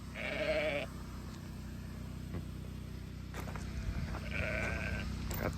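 Sheep bleating while being herded on a farm during a sheep and cattle drive, two distinct bleats, one at the start and another near the end, over a steady low rumble of outdoor background noise.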